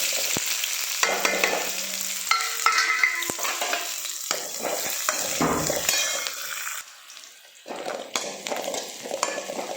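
Garlic and onion frying with mustard seeds in a pan for a bottle gourd kootu, a loud continuous sizzle broken by spatula stirs and scrapes, dipping briefly before resuming.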